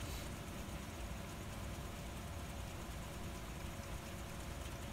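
Tractor engine in the Farming Simulator 15 video game, a steady low drone with broadband noise that holds at an even level from start to finish, with no talk.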